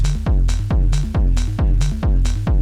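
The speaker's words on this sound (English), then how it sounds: "So these are the drums." A synthesized drum loop with a punchy kick and a 303-style bass line from an MAM MB33 repeats in a steady, loud groove of about six beats in a music production session, with no talking.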